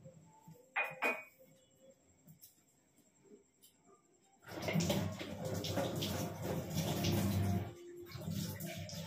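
Utensils are washed at a sink: a few faint clinks and knocks come first, then running water and the clatter of dishes being rinsed grow loud and continuous, with no talking.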